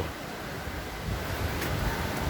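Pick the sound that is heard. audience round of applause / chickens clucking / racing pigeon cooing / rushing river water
rushing river water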